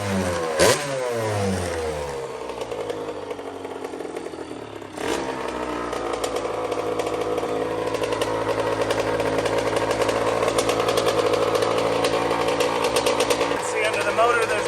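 Custom TRX90 quad with a CR85 engine fitted, smoking from debris in the pipe, revving hard with a rough two-stroke buzz and rising pitch sweeps, loud and close throughout.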